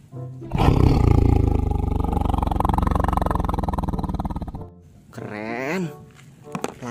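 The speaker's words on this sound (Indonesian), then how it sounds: "Widih, ada harimau." A toy tiger lets out a loud, drawn-out roar lasting several seconds, close and dominant. A brief voice follows it.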